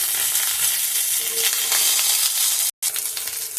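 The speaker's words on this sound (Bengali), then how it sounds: "গ্যাসের আঁচটা কমিয়ে বেগুনটা আস্তে আস্তে ভাজতে হবে" Eggplant slices fry gently in oil in a wok over a low gas flame, a loud, close, steady sizzle that cuts out briefly near the end and then resumes.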